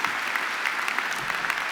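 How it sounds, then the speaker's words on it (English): Graduation audience at a Wimbledon College of Arts ceremony applauding after a catwalk, a dense, even burst of clapping from many hands, steady and moderately loud throughout. "Can you give yourselves a round of applause for the catwalk"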